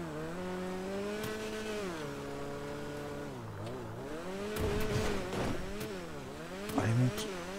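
A car skids and its tires slip in the video game GTA 5, with a revving engine whining up and down and bursts of tire squeal, heard fairly close throughout.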